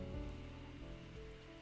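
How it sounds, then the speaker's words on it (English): Steady rain from the video game Necrobarista, a continuous soft patter on a surface over a low musical drone, even in loudness throughout, with no talking. "Rain is soothing to watch and to hear,"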